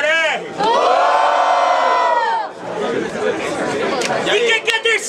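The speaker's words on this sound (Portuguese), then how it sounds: "Barulhos, barulhos pra quem gostou das rimas do Magno" Crowd at a Brazilian rap battle event cheers, whoops and shouts loudly and continuously, with an MC's voice rising over the roar before the noise breaks into scattered yelling.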